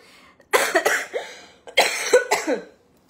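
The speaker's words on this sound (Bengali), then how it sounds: "একবার শুরু হলে কাশি থামতে চায় না" A woman coughs in two harsh bursts, each a rapid cluster of three or four close, loud coughs separated by a short quiet pause.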